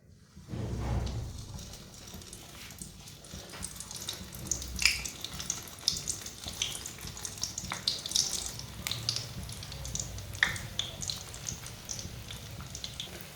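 Kachoris dropped one by one into hot oil in a kadai, frying with a steady close sizzle and bubbling, occasional sharper pops and crackles, no talking.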